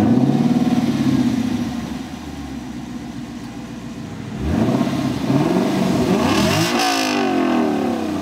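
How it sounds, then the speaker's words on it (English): A 2021 Lexus LC500 convertible's V8 engine revs up and settles, its deep rumbling growl rising and falling twice, loud and close. "that sonorous V8 engine"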